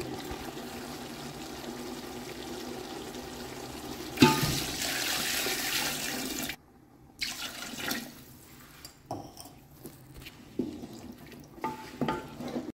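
Water in a pot comes up to a boil for chicken yakhni pulao, giving a steady watery bubbling and rushing that swells into a louder burst midway, then breaks into softer, uneven splashes and gurgles.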